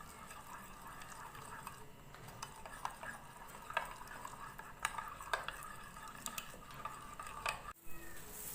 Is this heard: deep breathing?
no